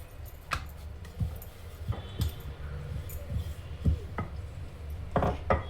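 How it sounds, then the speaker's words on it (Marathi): A rolling pin works wheat flour chapati dough thin on a board, making soft, uneven knocks and taps as it rolls back and forth, with light kitchen background noise. "जितकं पातळ होईल तितकं पातळ आपण हे लाटून घेऊयात."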